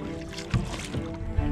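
A fishing boat being rowed on Laguna lake: the low slosh of water against the hull with a couple of soft paddle strokes, close and fairly quiet under a steady background murmur.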